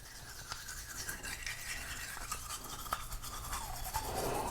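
Toothbrush bristles polishing teeth in small circles, a soft, steady scrubbing rasp that goes on for several seconds close up, with no voices.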